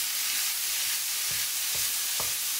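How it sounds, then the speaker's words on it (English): Minced meat for spaghetti bolognese dry fries in a pan with a continuous close hiss and sizzle, while a few soft thuds of a spatula breaking up the mince land in the second half. "I'm just adding in my meat like so"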